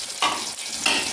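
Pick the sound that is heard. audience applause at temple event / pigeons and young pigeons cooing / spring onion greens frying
spring onion greens frying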